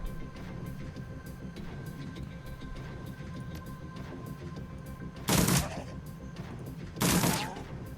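Two bursts of gunfire in the turn-based game Shadowrun Dragonfall, loud sharp cracks standing out a couple of seconds apart over a low droning background hum.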